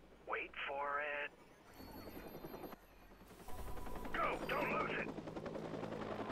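Helicopters in the video game Watch Dogs give off a rotor and engine drone that swells and fades around bursts of game noise, while a voice talks over parts of it.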